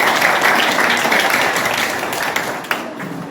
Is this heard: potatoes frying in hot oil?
no